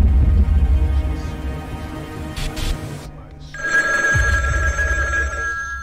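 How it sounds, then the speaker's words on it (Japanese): A telephone rings in a strange workplace in an SCP game, a steady electronic ring starting after a brief pause and continuing loudly to the end over low background rumble, with no talk. "この電話は何。"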